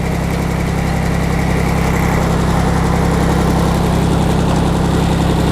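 A Yanmar F14D walk-behind farm tractor imported from Japan runs in first gear, its engine a loud, close, unbroken throbbing chug that holds steady throughout with no speech over it.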